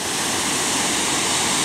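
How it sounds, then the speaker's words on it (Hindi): Chitrakot waterfall in Bastar, water plunging from a great height, a loud, steady, unbroken roar of rushing water filling the whole moment. "इतनी ऊंचाई से गिरते पानी की आवाज़ भी सुने"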